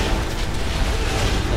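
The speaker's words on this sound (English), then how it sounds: "It's an explosion." Explosion in League of Legends: a loud, sustained booming blast that rumbles for well over a second without a break, with no talk over it.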